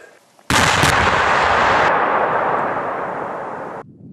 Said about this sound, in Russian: Внимание, взрыв.